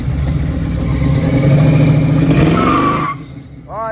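A carbureted car engine revs hard and loud while power braking for a burnout, holding a steady roar with a faint tire squeal. The roar cuts off near the end, leaving a quieter idle and a brief rising whine.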